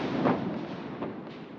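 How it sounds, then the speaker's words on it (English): Outside, a firework goes off with a dull muffled boom followed by a fainter second thud about a second later, both distant and rumbling, with no talk over them. "I don't know if you heard that firework"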